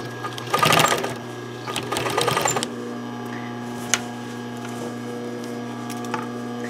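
Sewing machine stitching a roller towel in two close, loud bursts of rapid whirring, starting from the edge and then running backwards, followed by a quieter steady motor hum with a single sharp click.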